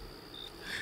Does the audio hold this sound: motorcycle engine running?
no